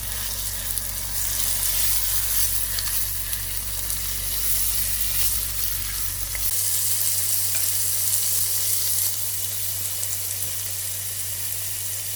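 Grated fresh tomatoes sizzle in hot oil for a Kerala fish curry, a steady close hiss and crackle that continues alone throughout, with a low background hum cutting out midway.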